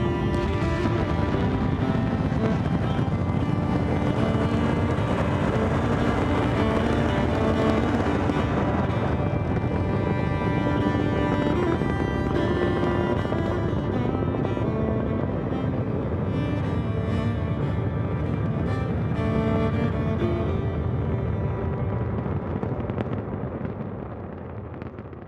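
Rocket engines roar at launch, a loud, sustained broadband rumble with crackling bursts that holds steady for nearly the whole stretch and eases slightly at the very end.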